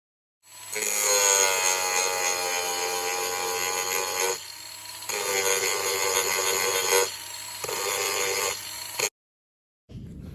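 A grinder wearing down the teeth of a Maxtrax recovery board, a loud steady high whine running for several seconds, dipping briefly twice, then cutting off abruptly, close and without talk.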